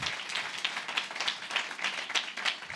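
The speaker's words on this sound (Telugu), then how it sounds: "గట్టిగా చప్పట్లు కొట్టారు" A church congregation at a Sunday sermon claps loudly, a thick wash of many hands with sharp accented swells recurring every half second or so, sustained without speech.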